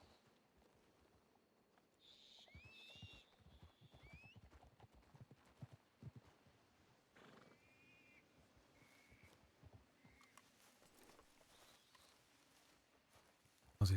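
Horse hooves clop intermittently with shuffling movement, while faint high chirps and squeals rise in the background and a sharp loud bang hits at the very end.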